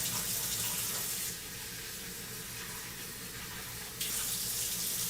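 Tap water runs steadily into a pot of rice being rinsed in a kitchen sink, a close, continuous splashing hiss that eases slightly midway and then swells again, with no one speaking.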